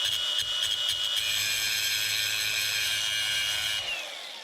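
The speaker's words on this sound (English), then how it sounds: "So let me grind this out and we'll take a look" Power grinder working on a used boat, grinding out rust around a crack ahead of welding; a steady, loud whine holds near and continuous for about four seconds, then winds down at the end.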